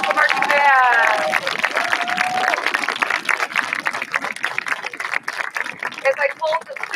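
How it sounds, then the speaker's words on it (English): Audience applause for the Brandywine High School Marching Band at a band concert, a steady wash of clapping and crowd noise lasting several seconds with some voices and cheering mixed in. "If we could get one big round of applause to the Brandywine High School Marching Band"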